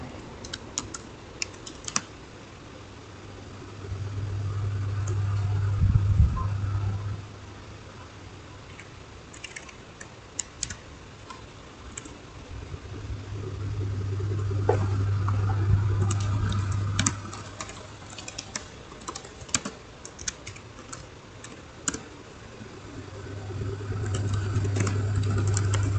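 Commands typed on a computer keyboard for Cisco switch configuration come through as rapid, irregular clicks with short pauses, close by, over a low hum that swells and fades in several long stretches.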